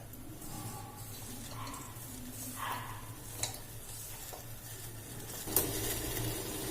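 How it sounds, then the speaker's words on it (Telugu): Water boiling in a pot for murukulu dough, heard as a soft, steady bubbling hiss with a few light clinks of a utensil against the pot. "ఇదిగోండి నీళ్లు మరుగుతున్నాయి కదా, ఈ మరిగే నీళ్ళలో ఇక ఈ పిండి వేసేసుకుందాం"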